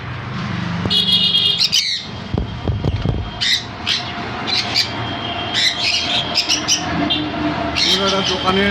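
Conures squawk in sharp, repeated bursts, some close and loud, over a busy indoor bird-shop hubbub with someone talking underneath.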